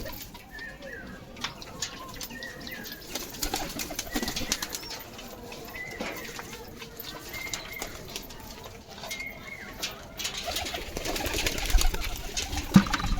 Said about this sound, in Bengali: ওই যে একটা পায়রা বাইরে।